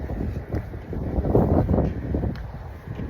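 Hot wind blowing outdoors in Qatar, a steady rushing gust buffeting the microphone with low rumbling surges, with no voices.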